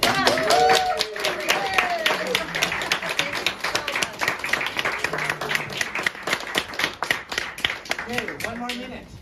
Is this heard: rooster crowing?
no